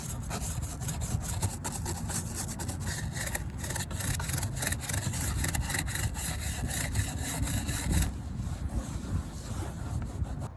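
An acid brush scrubbing grime from the speaker area of a Jeep Cherokee XJ, a close, continuous rapid scratchy rubbing with a dense rhythmic texture throughout.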